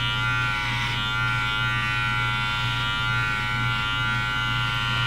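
A Wahl Senior cordless hair clipper buzzes steadily and close up as it cuts hair along the edges, a constant electric hum with slight shifts in tone as it moves, with no talking.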